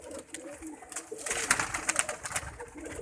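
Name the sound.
pigeon cooing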